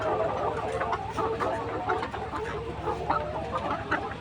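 Layer hens on a poultry farm, a dense, continuous chorus of clucking from many birds close by over a steady low mechanical hum.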